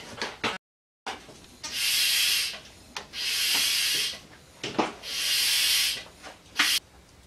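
Drained oil is sucked out of a Mazda 13B/12A rotary engine during an in-car front cover reseal, producing three long, loud hissing slurps separated by brief pauses and short sharp knocks, with no talking.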